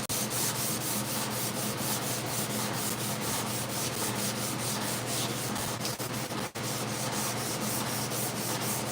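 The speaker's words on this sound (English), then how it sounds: "Doing a little bit of block sanding." Continuous wet block sanding on the hood of a 1968 C10 truck, a steady rasping rub with rhythmic back-and-forth strokes and a brief knock near the end, close and loud, no talking.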